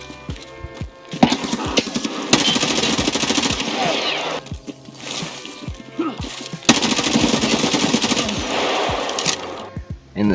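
Full-auto M4A1 rifle fire in a video game, loaded with M856A1 ammunition: long sustained bursts of rapid gunshots, loud and close, broken by brief pauses and a short shot at the end.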